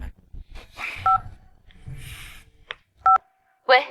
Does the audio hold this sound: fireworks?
no